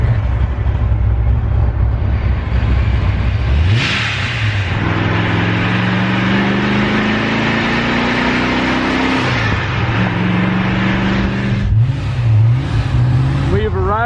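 A Corvette Z06 with a ProCharger and over 1000 horsepower accelerates hard from inside the car, its engine note climbing in repeated long pulls across gear changes, loud throughout.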